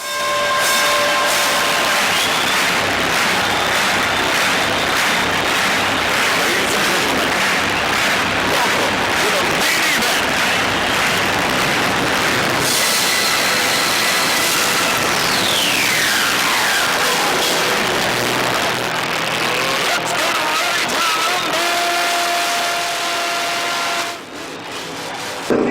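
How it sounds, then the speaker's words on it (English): Race car engines at Columbus Motor Speedway fire up and run together in a dense, loud, continuous roar, with one engine revving and sweeping down in pitch midway through. "Drivers, start your engines."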